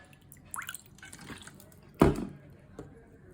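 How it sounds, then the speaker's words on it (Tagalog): White vinegar poured into a chili-laden dipping sauce, a short liquid splash with a few soft drips around it, close and quiet, with faint talk nearby. "Lagyan natin ng sukang puti."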